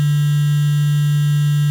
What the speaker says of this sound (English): we'll turn bit reduction on, and the trick is to look at the sine wave